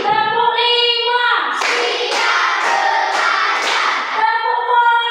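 Children clap along in a five-count pattern in a classroom. About five crisp, evenly spaced claps ring out together, framed by the group's chanted voices before and after.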